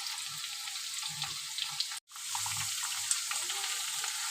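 Potatoes fry in a pan as spices go in, making a soft continuous sizzle with light stirring clatter and a brief dropout midway, no voices.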